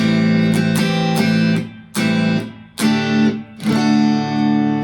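A distorted electric guitar playing a riff, picked in sharp repeated attacks, several chords struck with brief gaps between them, loud and close.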